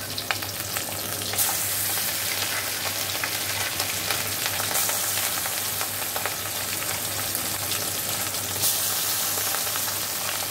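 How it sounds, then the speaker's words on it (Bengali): Fish sizzling steadily in hot oil in a pan for a traditional home-cooked dish, a dense continuous crackle with a low steady hum underneath and no talking. "দেখো মাছগুলো আমি দিয়ে দিলাম। এবার এগুলো হালকা ভেজে নেব"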